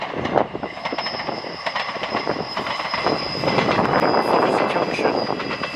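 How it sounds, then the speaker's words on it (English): A passenger train from Kyle of Lochalsh to Inverness rolls past nearby near Strathpeffer in the Scottish Highlands, its wheels clattering rhythmically and a high steady squeal ringing out as it rounds a bend, the noise building toward the end. "Here comes the train from Kyle of Lochalsh to Inverness"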